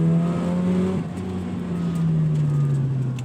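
A 1990 Mazda RX-7 FC with its rotary engine, which redlines at 8,000 RPM, holds a loud, steady revving drone up close. The pitch dips briefly, then climbs and holds again.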